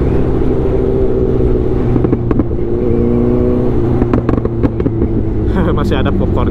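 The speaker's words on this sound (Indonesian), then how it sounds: "Masih ada popcornnya, cuman ya gitu, cuman di low RPM doang." A Honda CBR1000 motorcycle's exhaust rumbles at low RPM with scattered popcorn backfire crackles and sharp pops, loud and close, with a voice under the engine.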